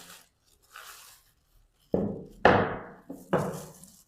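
Saltpeter and arsenic are mixed in a mortar, giving a few close, sharp pestle knocks with quick decays after softer scraping at the start.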